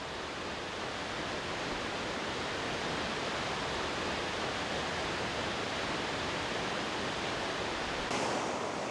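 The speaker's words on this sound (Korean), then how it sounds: "나무데크 옆에는 작은 폭포들이 줄을 지어 물줄기를 뿜어내고 있습니다" Small waterfalls pour beside a wooden boardwalk at Plitvice Lakes in Croatia, a dense, continuous rush of water that stays loud and even throughout with no voices.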